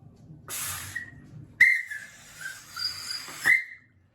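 A shrill two-tone GCR railway whistle is blown in several short bursts, its two tones sliding between pitches, loud and close with breathy hiss.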